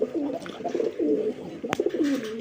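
A male pigeon coos close by in a quick run of repeated rolling, throaty phrases, with a brief sharp click partway through.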